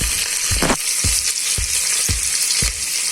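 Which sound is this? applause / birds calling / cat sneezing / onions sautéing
onions sautéing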